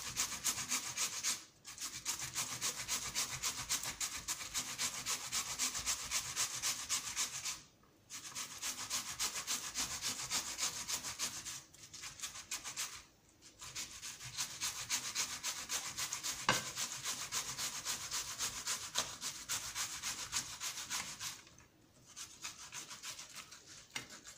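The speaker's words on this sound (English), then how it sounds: "You just have to separate it from the blended one and keep scraping it." A blended water yam paste is scraped for akara, giving a gritty rubbing sound in long, even bouts broken by a few short pauses. It is close and moderately loud, with no talk.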